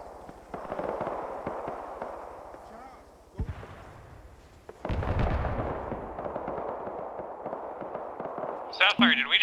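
Gunfire in the military shooter Arma 3, rapid cracking shots and bursts with heavy booming reports, some distant and some close, under ongoing radio-style talk between players.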